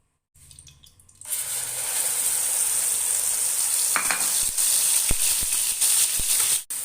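Garlic and onion paste frying in ghee or oil for aloo methi, a steady loud sizzle that starts after a brief quiet moment and holds throughout, with a few sharp clicks of stirring near the end.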